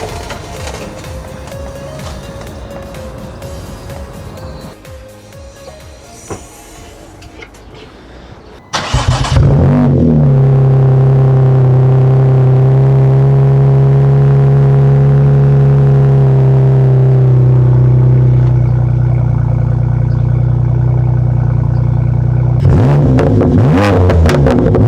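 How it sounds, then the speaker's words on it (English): A BMW M2 Competition with a new aftermarket exhaust cranks and fires up into a loud, deep, rumbling idle from a throaty exhaust, then blips sharply at the end; close and powerful. "the new exhaust sounds absolutely crazy"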